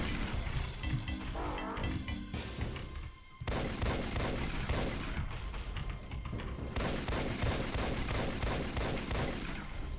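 An assault shotgun firing in the video game Doom, Plutonia 2, loud rapid repeated blasts in quick succession over a busy, noisy game soundscape with a short pause partway through.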